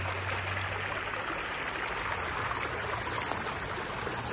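Steady, close rush of a clear mountain creek flowing near June Lake, with an even broadband babble that runs unchanged throughout and no voices.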